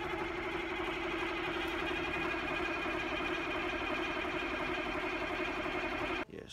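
An RV engine cranks over and over in freezing weather around 33 degrees without catching, a steady, loud, continuous mechanical grind that stops abruptly near the end.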